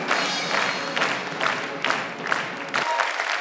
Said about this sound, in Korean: 극장을 가득 메운 환호와 갈채.